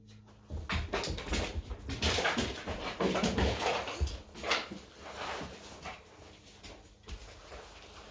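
A dog whimpers and pants close by, a steady stretch of breathy, whining sound lasting several seconds at moderate volume, with no speech.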